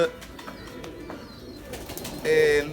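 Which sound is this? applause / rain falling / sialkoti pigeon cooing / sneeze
sialkoti pigeon cooing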